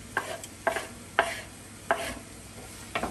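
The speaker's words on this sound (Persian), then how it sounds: "این پیاز رو تفت میدیم" Chopped onion being sautéed in a pan, heard as five distinct scraping stir strokes at irregular intervals over a soft, low sizzle, close and fairly quiet, with no talking.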